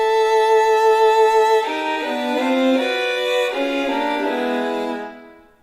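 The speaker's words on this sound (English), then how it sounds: "we've got these 3 violas in the middle that are playing" Three violas in an orchestral passage, one doubling the solo cello melody while two harmonize it, heard alone as smooth sustained bowed lines that swell, shift pitch together and fade out at the end.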